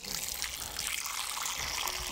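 Mezcal poured in a thin steady stream into a jícara gourd, a soft continuous trickle and splash heard alone at close range.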